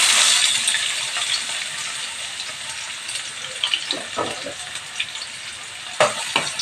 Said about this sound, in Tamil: வெங்காயம் நல்லா கொஞ்சம் வதங்கட்டும்.